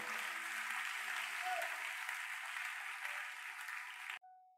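Congregation applauding during a church worship service, a steady dense wash of clapping that fills the space for about four seconds, then cuts off abruptly.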